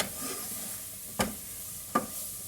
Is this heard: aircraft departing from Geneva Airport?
no